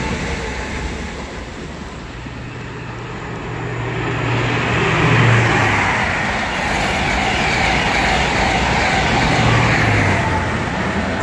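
A Class 43 high-speed diesel train and a Class 387 electric train race past together on the East Coast Main Line at Hitchin, a loud sustained roar and rumble that swells toward the middle and stays close.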